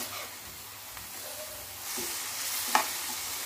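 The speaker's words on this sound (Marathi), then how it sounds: "छान आता वाफवत आलेला आहे आपला पालक." Spinach steaming and being stirred in a pan: a faint, soft sizzle with light scraping from the stirring, and a sharper clink near the end.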